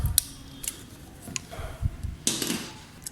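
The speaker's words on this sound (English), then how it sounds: "So I'm going to use this plier and cut the wire because I don't need it." Pliers snip through a motorcycle clutch cable wire on a Yamaha FZ25, giving a few sharp, close metallic clicks and crunches spaced irregularly over quiet background.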